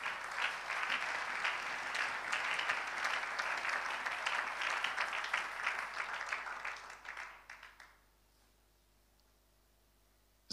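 A church congregation breaks into loud, sustained applause at a Sunday service, steady clapping for about seven seconds before it tapers off and falls to near silence.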